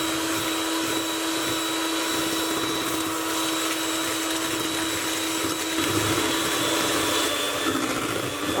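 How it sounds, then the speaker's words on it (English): An electric mixer whips egg whites on high speed for macarons, a loud, constant high-pitched motor whine with a steady tone that holds throughout, no voices. "we're going to beat these on a high speed until we start to get soft peaks"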